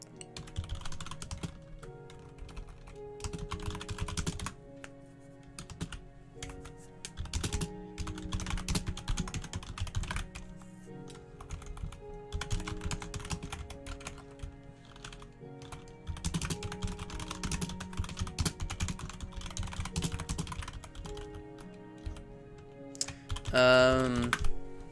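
Steady typing on a computer keyboard, with fast clustered keystrokes running nearly the whole time beneath a soft musical background, close and moderately loud.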